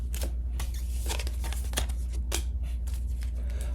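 Tarot cards being shuffled and drawn from a deck, heard as a run of quick, crisp close-up flicks and slides with brief pauses between them and no talk.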